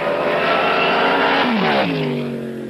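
Race cars roar in a vintage STP oil treatment television advertisement, with a loud engine whine that sweeps down in pitch as a car passes by.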